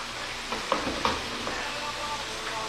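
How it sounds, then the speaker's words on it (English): Calamari sizzling and crackling steadily as it fries in hot oil, with a few brief clinks and stirring sounds close by. "It's frying up nicely."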